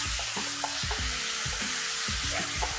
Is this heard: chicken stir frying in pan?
yes